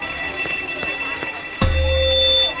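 A school fire alarm goes off abruptly partway through, a loud, steady electronic buzzing tone that holds to the end over the low background noise.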